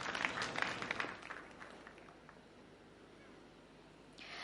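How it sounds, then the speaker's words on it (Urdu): Audience at a debate competition applauds a participant's entrance, fairly faint scattered clapping that fades out, with a brief voice near the end. "آپ سب کی بھرپور تالیوں میں انیقہ نہال۔"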